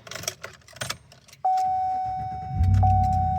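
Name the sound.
Chevy Silverado engine starting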